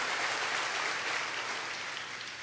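A church congregation applauding together, a steady wash of hand clapping filling the room evenly at moderate loudness, with no voices standing out.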